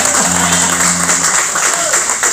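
Dense, steady applause from a crowd, clapping continuously throughout with a voice briefly heard underneath.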